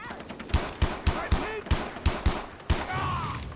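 Gunfire in Far Cry 3: about eight sharp, evenly spaced single shots ring out close and loud, followed by one more shot and a lingering tail.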